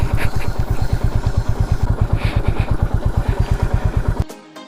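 Motorcycle engine idling with a steady, even chug close by as it is parked at a nature retreat entrance, then cutting off abruptly near the end.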